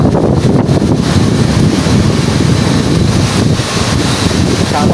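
Strong typhoon wind buffets loudly and steadily, mixed with a dense hiss of heavy rain, a constant roaring storm with no voices.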